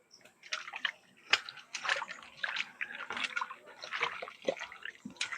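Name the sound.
washing cut mango pieces in water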